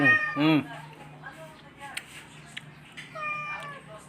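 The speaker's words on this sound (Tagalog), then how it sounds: "Pati pusa, ayan, nanghihingi." A cat begging for bread meows loudly once near the start, then gives softer, drawn-out meows toward the end over a low background hum.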